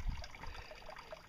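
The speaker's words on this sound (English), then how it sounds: "There's a stream of water coming down here." Water trickles in a thin stream into a small pedal-powered boat where part of the rear floor has been cut out, a faint, steady, continuous dribble with no voices.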